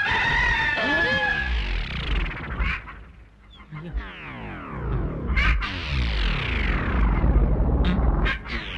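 A rooster's crow, loud and drawn out, rings out at the start, followed by a dense run of shrill clucking and fowl-like cries with bursts of noise throughout.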